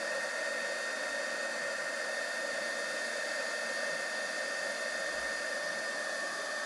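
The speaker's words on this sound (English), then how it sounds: "if you point the heat gun at it" Heat gun blowing hot air over embossing powder for a faux enamel craft: a steady, loud, unbroken whoosh of fan and airflow with a constant hum, no voices.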